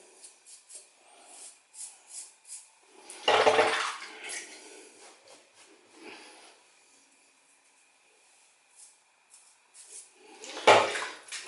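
Water splashes and runs briefly as a face is rinsed after a shave, with a few soft dabbing sounds, two louder bursts of running water and quiet pauses between them.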